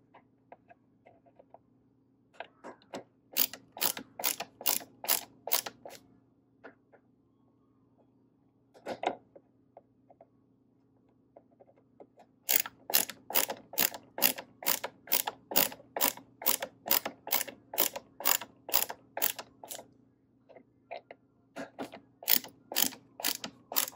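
Screws tightened into a TCL 43-inch Roku TV stand with a ratcheting screwdriver, sharp rapid clicks in repeated bursts, close and crisp, separated by short quiet gaps while the tool is repositioned.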